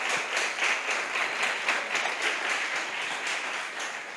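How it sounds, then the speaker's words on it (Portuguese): Church congregation at an evening communion service clapping hard together, a steady, loud wash of applause with a faint rhythmic pulse that carries on for several seconds before easing slightly. "Aplauda Jesus bem forte com as palmas."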